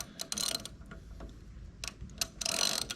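A nut being turned to rotate and position a car strut on a ZL1 1LE, giving faint, intermittent metallic ratcheting clicks in short bursts.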